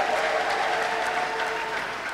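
Church congregation applauding during a prophet's service, a steady, full round of clapping from a large crowd, loud and sustained with no break.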